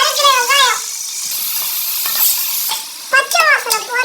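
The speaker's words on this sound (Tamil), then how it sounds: "பச்சை வாசனை போற வரைக்கும் வதக்கணும்." Chopped onions and spices sizzling and being stirred in a pan for KGF-style biryani, steady frying hiss with scraping, while someone talks over it at the start and end.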